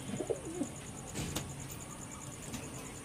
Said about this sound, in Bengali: 3 জোড়া পায়রা।